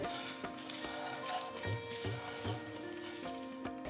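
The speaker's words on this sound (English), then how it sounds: "Keeping the flame on low, roast everything nicely." Spices and rice sauté on a low flame in a pan for South Indian amla gooseberry rice, giving a soft, steady sizzle with light scraping and stirring taps at a gentle rhythm.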